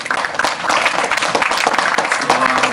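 Audience clapping for the speakers at a community event on police accountability, a dense steady patter of hands filling the room at close range, with no clear pauses over the few seconds.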